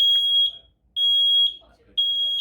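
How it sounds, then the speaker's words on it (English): Kidde i9010 smoke detector during a test, sounding three sharp, high-pitched alarm beeps in an even pattern with short silences between them. "You now have a working smoke detector."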